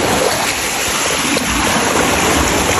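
A river flows in a continuous, full rush of water, loud and close, with no break or change in level and no voices over it.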